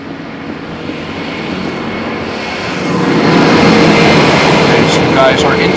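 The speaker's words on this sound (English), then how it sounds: "Meanwhile, another tractor is going to pass by." An airport tractor passes by at Amsterdam Schiphol Airport with a loud, steady engine rumble that swells partway through and stays heavy under the constant roar of the airfield.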